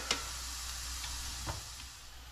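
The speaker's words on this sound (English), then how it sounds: "Bacon's frying." Bacon sizzles and crackles in a pan in a home kitchen, with a steady low frying hiss and a couple of sharp pops standing out over it; there are no voices.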